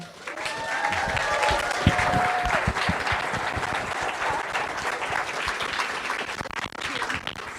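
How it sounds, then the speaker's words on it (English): At a school social impact and leadership summit keynote, a large audience gives a huge round of applause, loud dense clapping sustained for over seven seconds, with brief whoops or cheers near the start. "let's take a moment to give everybody a huge round of applause"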